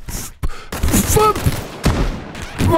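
A turret fires in the sandbox zombie video game Outbreak Island Pendulum: loud, close, rapid bursts of gunshots with short breaks between volleys, over faint game sounds.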